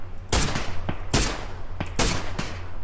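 Gunfire in a shooting video game: close, loud shots arriving in short bursts, each sharp crack trailing off into a brief echo, with pauses between clusters and a steady low hum underneath.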